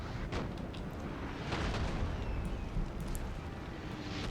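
Artillery cannons fire in the Napoleon: Total War game. Several dull booms and bursts sound through a low, rumbling battlefield din, some near and some farther off.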